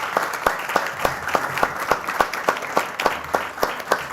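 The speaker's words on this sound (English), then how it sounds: "If you can please applaud these young kids." Applause at a city council meeting for a group of young kids, a fairly sparse crowd clapping with distinct, regular individual claps, moderately loud and close.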